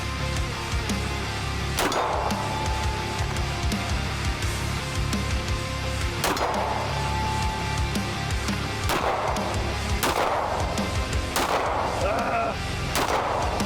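Belgian-made Browning Hi-Power MK3 pistol fired at a range: four or five sharp, loud gunshots spaced a few seconds apart, each with a ringing echo, over steady background noise.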